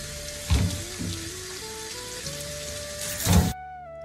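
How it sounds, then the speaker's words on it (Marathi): Beetroot and carrots are rinsed under a running kitchen tap, with two short bursts of splashing water set against gentle background music. "आता हे पाण्याने स्वच्छ धुवून घेऊयात।"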